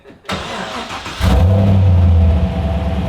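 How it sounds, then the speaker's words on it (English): A car engine turns over and catches, then revs up into a loud, steady roar close by. "that noise coming from a little BMW"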